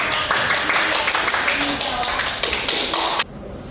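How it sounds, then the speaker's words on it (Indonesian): Classroom students clapping together, a steady patter of many hands close by with some shuffling, cutting off abruptly near the end. "berikan tepuk tangan untuk"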